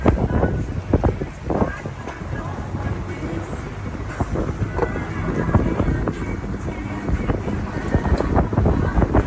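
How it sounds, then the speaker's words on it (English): Low rumbling engine and water noise with buffeting wind, as of motorboats churning past nearby on open water. "There's a lot of boats coming up."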